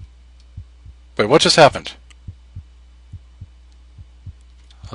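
A slow, steady thump of a player's heartbeat in a Molyjam Slender-style horror game pulses alone at regular intervals, briefly broken by a short burst of speech.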